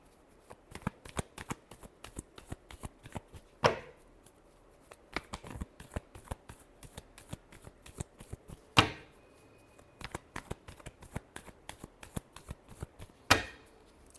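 Tarot cards are shuffled repeatedly in quick, crisp riffles and taps, with a few louder snaps where the deck is squared or cut, close up over about fourteen seconds and without talking.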